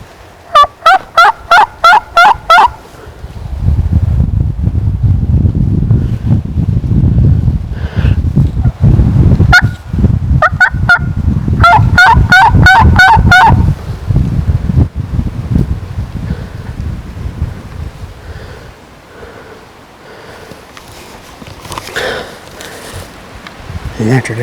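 Wild turkey gobbles ring out in two clear bursts early on, a distant long-beard answering amid strong gusting wind on high ground near a big field, with quiet talk under the wind noise.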